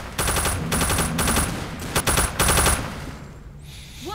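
Rapid automatic gunfire in the zombie shooter Left 4 Dead, loud and close, coming in several sustained bursts with short gaps between them before tailing off.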